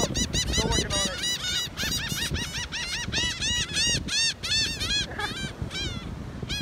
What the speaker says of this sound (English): Also, the seagulls, I don't know if you can hear them in the background.